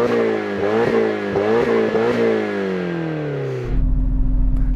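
A Nissan car engine revs hard in repeated surges, then drops to a steady, lower idle drone, loud and close.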